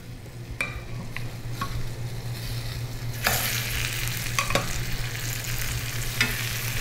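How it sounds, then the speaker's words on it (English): Ginger-crusted chicken pieces frying in oil, a continuous close sizzle that swells louder partway through, with occasional crackles and the sound of pieces being moved in the pan. "This is actually going to create a beautiful golden crust once they start to cook in the oil."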